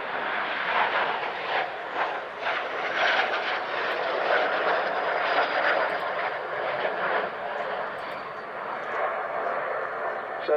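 Armstrong Whitworth-built Meteor NF-11 night fighter jet, a loud continuous engine roar with a steady rushing, whooshing texture throughout, heard with speech over it.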